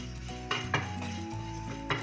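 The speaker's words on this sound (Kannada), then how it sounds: "ಬೇಳೆ ಹುರ್ಕೊಳ್ಬೇಕಂದ್ರೆ ಸ್ವಲ್ಪ ಲೋ ಫ್ಲೇಮಲ್ಲಿ ಹುರಿಬೇಕಾಗುತ್ತೆ" Lentils (dal) roasting in a pan over a low flame, a steady soft sizzle broken by a few light scraping stirs of a utensil against the metal, with no talk.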